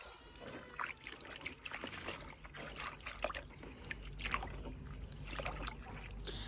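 Hibiscus leaves being squeezed by hand in a bowl of clean water for a homemade hair pack, giving soft wet squelches and trickles in irregular bursts, close and fairly quiet with low background rumble.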